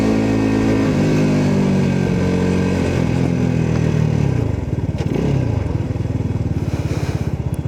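Motorcycle engine while riding: a steady loud drone for several seconds that eases off, then settles into a rhythmic lower putter as the bike slows, heard from the rider's position with no talking.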